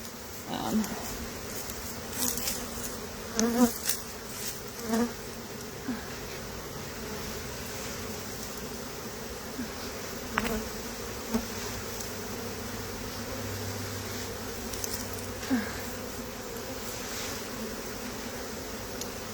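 Honey bees from a disturbed hive swarm and buzz steadily around the listener, a dense insect hum with individual bees passing close, while people speak quietly now and then over it.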